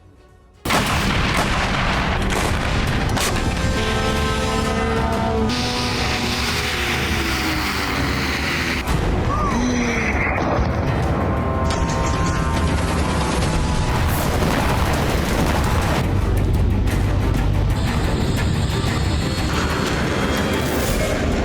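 Missile strikes and explosions in Ukraine, including Russian Kinzhal ballistic missiles and S-300 anti-aircraft missiles, produce a loud, continuous barrage of booming blasts and heavy rumbling that fills the clip from start to finish.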